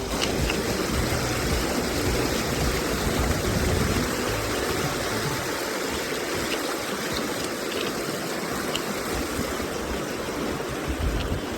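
Steady, broad rush of a shallow, rocky river stream flowing close by, a continuous loud wash of water with no pauses, heard on a trail walk in New Zealand's South Island.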